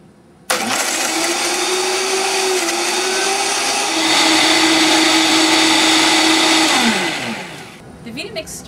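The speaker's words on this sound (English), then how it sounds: "Vitamix started off slow. It wasn't really getting to the orange" A Vitamix blender churns a whole orange with its peel. The motor starts abruptly with a loud, steady, high whine that holds for several seconds, then drops in pitch and winds down near the end.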